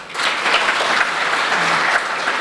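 A crowd at a local community celebration in Podgorci, Slovenia, claps steadily to welcome performers onto the stage, a dense, continuous round of applause at moderate loudness with no voices standing out.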